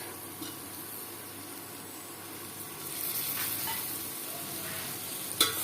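Tomatoes frying over low flame in a pan with spices for a desi-style jackfruit curry, a soft continuous sizzle with a few stirring scrapes and one sharp clink near the end.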